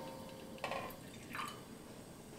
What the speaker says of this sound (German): dann gießen wir einfach diese gemischte Brühe rein